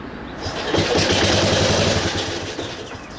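A 1968 Bolens EK-10 Estate Keeper garden tractor engine running roughly and intermittently, a close, loud mechanical chug that sputters and sags unevenly across a few seconds.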